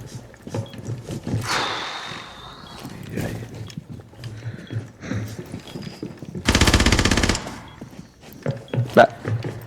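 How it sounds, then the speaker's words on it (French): Gunfire in Rainbow Six Siege, with scattered thuds and shots and one dense automatic burst of about a second partway through, set against quieter game sounds. "Mais il tire sur rien du tout."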